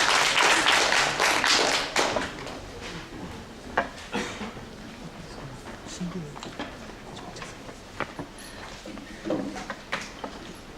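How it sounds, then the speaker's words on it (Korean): Audience applause at a Korean statistics society presentation on baseball free-agent batter salaries, a dense burst of clapping that starts loud and thins into scattered claps over about ten seconds, with voices mixed in. "다 같이 큰 박수로 환영해 주시기 바랍니다."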